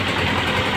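A 2019 Honda CG 125 motorcycle idles steadily and loud at close range, a continuous low engine rumble with even vibration and no talking over it.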